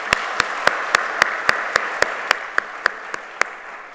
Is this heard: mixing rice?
no